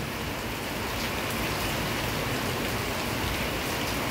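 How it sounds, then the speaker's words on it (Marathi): Heavy unseasonal rain pours steadily over Deglur town, a loud, dense, continuous hiss with no pauses and no voices. "मोठ्या प्रमाणात पाऊस सुरू आहे।"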